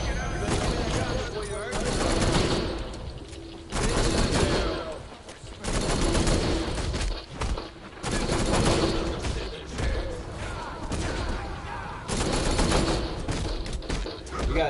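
Enemy gunfire in Batman Arkham Knight's Red Hood story, with loud dense bursts of rapid automatic shots repeating in long stretches and brief gaps between them, close and heavy throughout.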